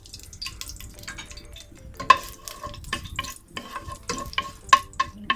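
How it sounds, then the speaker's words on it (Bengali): Cardamom pods and torn bay leaves fry lightly in oil while being stirred, with soft crackles and scraping strokes, clearer metallic ticks and a gentle sizzle, close and without talk. "একটু হালকা ফ্রাই করে নেব।"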